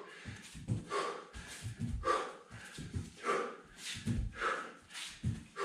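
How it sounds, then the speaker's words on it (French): People exhale forcefully during a dynamic, explosive exercise routine, with repeated rough huffing and snorting breaths in an uneven rhythm, close and moderately loud. "Pensez à bien respirer, hein, soufflez."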